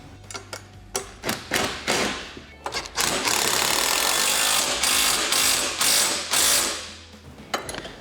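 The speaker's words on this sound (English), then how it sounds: "So now we're going to go through and start tightening all of our hardware." Close, loud clicking of a ratchet tightening bolts on SuperATV tree kicker hardware for a Polaris RZR XP 1000, starting as short separate strokes and then running into a fast continuous ratcheting whir.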